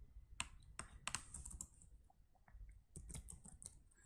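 Quiet, rapid typing on a computer keyboard while writing HTML and CSS code, with irregular bursts of crisp key clicks and short pauses, close and alone.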